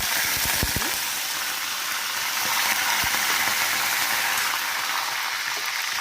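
Tempering of spices and curry leaves sizzling in hot oil for an aloo paratha curry, a steady bright crackling hiss with a few sharp pops early on, close and continuous without talk.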